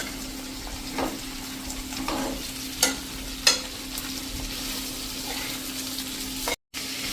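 Cabbage and potato sabzi frying in a pan, stirred with a few distinct scraping strokes over a steady low sizzle, close and moderately loud, with no one talking.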